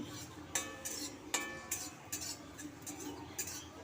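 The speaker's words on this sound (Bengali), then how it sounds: "কড়াইতে দিয়ে দিলাম হাফ চামচ পাঁচফোড়ন পাঁচফোড়ন খালি কড়াইতে ভেজে নেব" Panch phoron seeds dry-roasting in an empty wok give quiet ticks, light clinks and scraping stirs in a sparse, irregular rhythm, close but faint.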